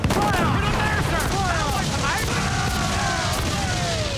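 Ship cannons fire in a pirate video game, heavy booming blasts layered over loud battle noise, with shouting voices and whistling tones mixed in.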